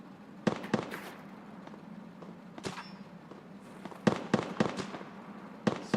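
Scattered gunshots in Escape from Tarkov come in uneven clusters of sharp cracks, a few near and loud and others more distant, against a steady low background hum.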